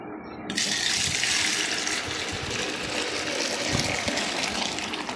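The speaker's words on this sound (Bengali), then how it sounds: "হালকা একটু উঁচু থেকে এভাবে কয়েকবার ঢেলে ঢেলে নিব" Warm milk is poured from a little height in a continuous splashing stream, close and steady for several seconds, with no voices.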